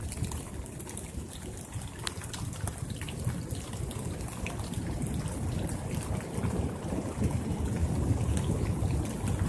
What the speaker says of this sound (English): But this storm though